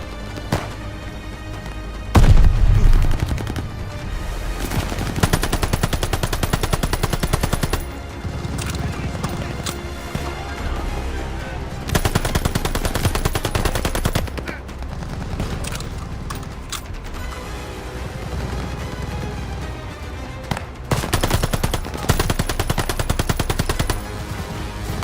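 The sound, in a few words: machine gun fire in the video game Call of Duty Vanguard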